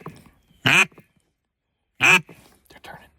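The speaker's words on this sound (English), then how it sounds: "Two big fatties, might have been black ducks, came right at us." Black ducks heard while hunting: two loud, harsh quacks about a second and a half apart, close by, with faint murmured voices and rustling in between.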